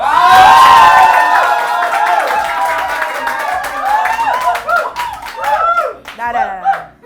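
An audience at a live Indonesian show claps loudly and cheers, with shouts and excited voices rising over steady, dense clapping that stays close and loud throughout.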